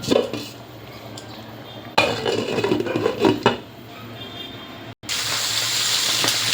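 A lid goes onto a cooking pot of prawn pulao with a few metallic clanks and clatters, followed by a steady hiss of steam that runs to the end.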